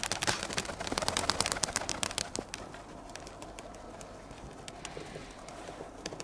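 Pigeons at a village dovecote, cooing and flapping their wings, with dense bursts of wingbeats in the first two seconds that thin into softer scattered flutters and calls.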